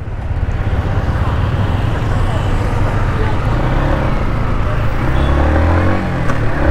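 A 2022 Yamaha MT-15 V2 motorcycle is ridden and shifted up through its low gears, producing a continuous close engine drone with a low rumble that swells near the end, recorded while moving.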